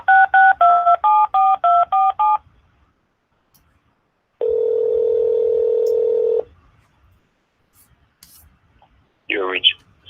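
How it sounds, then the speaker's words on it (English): Telephone keypad dialing: a quick run of about eight clear touch-tone beeps, then a steady ringback tone lasting about two seconds, followed by a brief burst of speech near the end. "I'm trying to call him right now."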